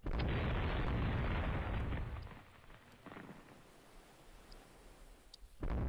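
A warship's ammunition magazine explodes in the naval strategy game Rule the Waves 3: a loud, sustained roaring blast for about two seconds, then a lower rumbling aftermath with scattered crackles, and a second loud burst at the very end.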